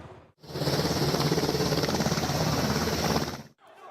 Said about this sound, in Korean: 무장병력을 태운 군헬기가 국회에 착륙했고